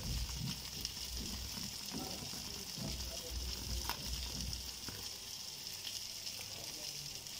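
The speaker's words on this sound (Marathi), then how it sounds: "हे बघा, सगळ्या साईडने छानपैकी भाजून घ्यायचं आहे मोठ्या फ्लेमवरती." Tandoori chicken pieces roasting over a high gas flame on a stovetop: a steady, close sizzle and hiss runs throughout, with faint low rumbling and occasional small crackles beneath it.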